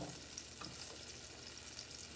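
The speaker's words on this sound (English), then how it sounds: "it's starting to sizzle" Beef for stew sizzling in a pot on a stovetop, a steady frying hiss, fairly quiet and continuous, with a few faint scraping stirs, no voices.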